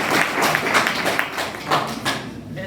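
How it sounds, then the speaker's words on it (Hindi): Audience clapping in a college seminar hall on computer careers, a steady broadband patter of many hands lasting a few seconds and fading toward the end, close and fairly loud. "इसके लिए आप ताली बजा सकते हैं"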